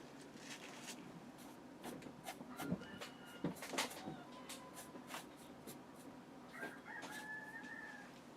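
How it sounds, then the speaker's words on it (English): A rooster crows faintly in the distance, its drawn-out call near the end, amid scattered knocks and clatters nearby. "Do you hear the rooster again?"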